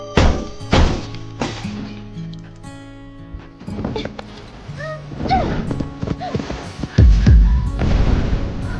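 A bomb blows up close beside a car: heavy booming thuds and a low rumble strike near and loud amid a tense dramatic mix, with a big blast swelling toward the end and no voices.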